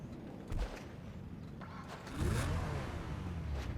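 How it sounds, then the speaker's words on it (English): A Pegassi Reaper sports car starts up in GTA 5: a brief crank near half a second, then at about two seconds the engine catches into a loud, steady, rough idle with a rising tone, heard close and with no talk. "pretty sick startup sound there. Is like really brutal sounding."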